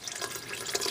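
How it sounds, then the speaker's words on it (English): Water is poured into a pot of Italian sausage chili, giving a soft, continuous splashing trickle heard up close, with no talking. "I'm going to add a little bit more water."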